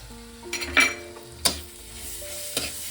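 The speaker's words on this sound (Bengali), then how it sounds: "দিয়ে আমি ভালো করে আবারও কষিয়ে নেব।" Papaya curry with grated coconut and raisins sautéing in a pan, a low sizzle broken by several sharp scrapes and knocks of a spoon stirring, close and clear.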